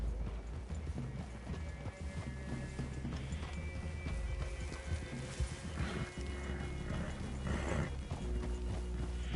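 Horses clop along at a walk in the open-world western game Red Dead Redemption 2, hooves thudding steadily with an occasional snort or whinny over quiet ambient background.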